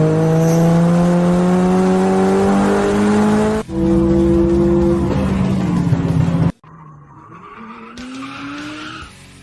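A race car tears through corners with a roaring, rising engine and long screeching tire skids, the sound cutting abruptly between loud passes before a quieter stretch of revving.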